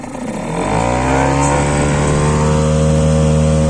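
A Parsun 3.6 outboard boat motor idling in forward gear, its steady droning hum rising in the first half second and then holding even and loud up close.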